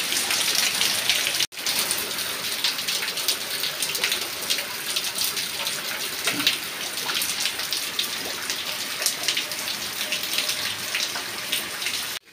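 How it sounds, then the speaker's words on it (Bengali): Heavy rain pours steadily, a dense continuous hiss of drops drumming on surfaces, briefly cut off near the start, with no voices. "দেখিয়ে দিই যে কীরকম জোরে বৃষ্টি এসেছে"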